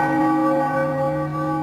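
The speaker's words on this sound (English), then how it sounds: "Use the rope to start the bell." A church bell rings in a bell tower in the video game Jerusalem Project. It gives a steady, sustained metallic tone with rich harmonics that hum on without any break.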